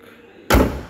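The bonnet of a 2013 Chevrolet Captiva 2.0 AWD diesel is slammed shut: after a quiet lead-in, a single loud, close, heavy metallic thud hits and decays quickly.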